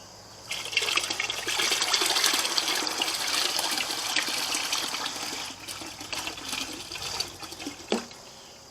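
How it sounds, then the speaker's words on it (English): Tomato seed liquid being poured through a fine mesh sieve hooked on a 5-gallon bucket, a steady close splashing and trickling stream lasting several seconds, tapering off near the end. "I'm just going to pour all of this liquid"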